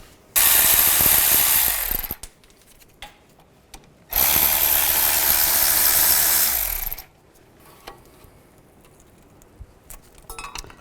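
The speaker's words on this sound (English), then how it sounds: "Now take these two caliper bolts out. Use a 14mm socket." A ratchet with a 14mm socket turns the brake caliper bolts off a 2005-15 Nissan Xterra. Two loud, close bursts of rapid clicking last a few seconds each, followed by faint metallic clinks.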